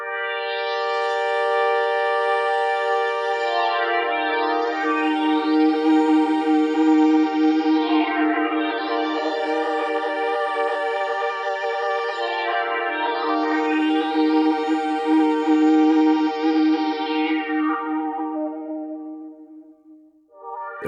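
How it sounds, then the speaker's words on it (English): A sustained synth pad through a UAFX Golden Reverberator pedal, drenched in warbling, wobbly reverb, pitch bending and smearing in slow sweeping waves like a worn-out tape, with no voices. "as you turn your mod knob, you get a more and more broken tape machine."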